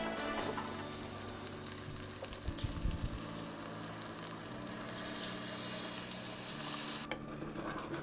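Food sizzling steadily in a hot pan, a continuous close crackling hiss with occasional stirring clatter, no talking.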